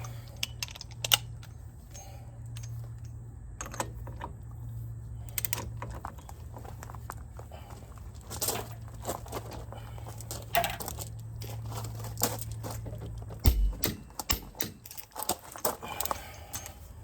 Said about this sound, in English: I'm going to use the torque wrench to start us at 150 foot-pounds